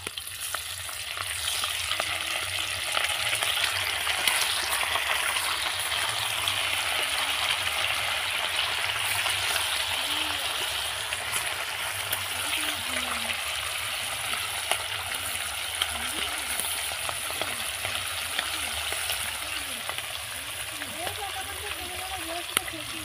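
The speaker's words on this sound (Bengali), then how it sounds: "তেলটা এখন আমার গরম হয়ে গেছে। তো আমি এখন মাছগুলো ভেজে নেব।" Ruli fish fry in hot oil in a home kitchen, a dense, steady sizzle and crackle running throughout while someone talks over it.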